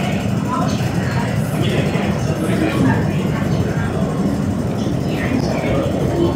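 A train in Hong Kong rumbles along continuously with a steady rattling clatter, loud and close, while faint voices blend into the background.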